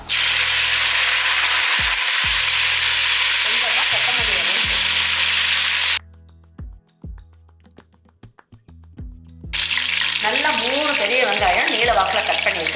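Onions, cashews and mint leaves fry loudly in a pan for chicken dum biryani, a dense sizzle that cuts out briefly in the middle and then returns, with a voice speaking over it.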